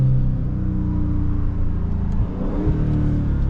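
A 2023 Dodge Charger Scat Pack Widebody Last Call revs hard on a downshift while street drifting, its deep engine roar steady and loud, dipping briefly before climbing again.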